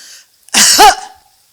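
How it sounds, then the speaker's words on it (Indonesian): A single sharp cough bursts out close by, brief and forceful, with a short raspy tail before silence. "Batuk."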